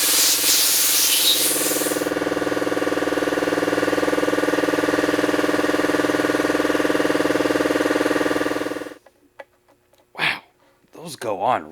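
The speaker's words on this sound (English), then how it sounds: "Air compressor just makes it so much easier." An air compressor blows a BMX grip onto a handlebar with a loud, steady hissing rush and mechanical hum lasting about nine seconds, then cuts off abruptly, followed by brief speech.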